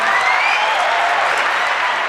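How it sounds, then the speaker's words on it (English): Audience applause greeting a guest introduced on a comedy talk show, a dense, steady wash of clapping that holds at full strength for the whole stretch with no talk over it. "Everybody give me a round of applause for Mr. David Joshua Lawrence."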